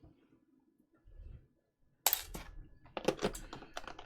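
Keys clatter on a Cerberus mechanical keyboard, first a faint tap or two, then a quick close burst of crisp clacky strokes after a short pause.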